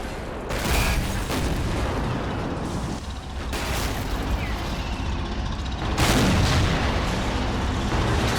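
Explosions and battle noise rumble through a World War II tank fight in Men of War: Assault Squad 2, a dense continuous roar with a louder blast burst near six seconds.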